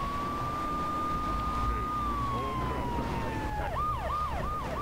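A police siren in the video game GTA III wails, a long steady tone that dips and then switches to a rapid yelping pattern over a constant rumbling background.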